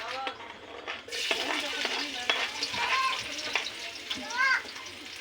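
Garlic frying in a pan for beef adobo, a steady close sizzle with occasional stirring scrapes, while a voice speaks over it.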